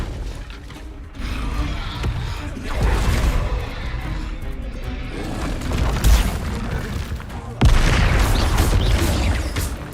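Explosive booms and crashing spell blasts from the Bombarda curse in the Hogwarts Legacy video game, erupting in dense, loud bursts over a continuous rumbling combat soundscape, with a big hit near the middle and another just before the end.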